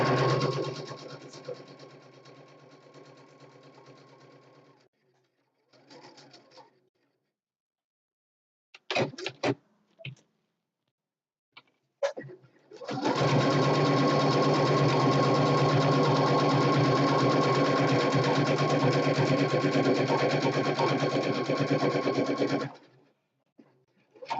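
A sewing machine runs in short stitching bursts, then a long steady whirring run of about ten seconds, close and fairly loud.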